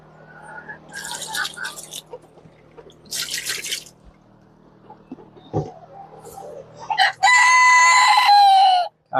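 Backyard chickens around a rooster, with clucks and a long, loud crow near the end and a voice talking over the flock.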